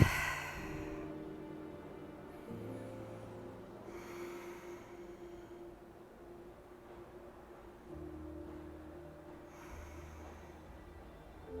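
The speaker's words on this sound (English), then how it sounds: "taking deep breaths here, inhaling in, exhaling out." Slow, deep breathing during a slow-flow yoga stretch, with long soft inhales and exhales at a calm, even pace, quiet and close, without talking.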